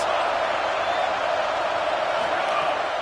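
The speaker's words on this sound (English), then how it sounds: "this crowd is getting behind this defense" Stadium crowd at a Texas vs LSU college football game roaring steadily on a big third down in the red zone, a dense continuous wall of cheering with commentary mixed underneath.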